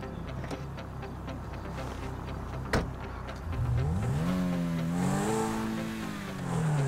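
The Zentorno supercar in Grand Theft Auto V on Xbox One idles with a ticking, then its engine revs up hard, rising and falling in pitch as it accelerates, loud and close with no talk.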